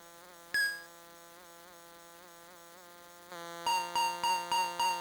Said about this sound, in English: That buzz, there isn't a wasp in the room. That is the noise the game makes.